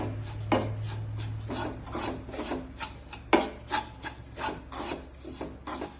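Red chilli powder being stirred into sorghum flour, a dry rasping scrape of utensil against bowl repeating in irregular strokes, fairly quiet and close with no talk.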